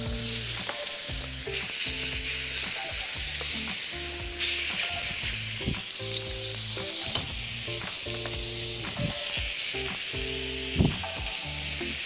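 Beef fillet sizzling in butter in a hot pan, a steady loud frying hiss throughout with occasional clinks and scrapes of stirring.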